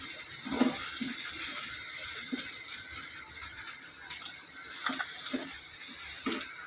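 Cubed vegetables, including capsicum, sizzle in a pan while chicken pasta cooks. A steady, moderate frying hiss runs throughout, broken by a few soft clanks and taps of utensils against the pan.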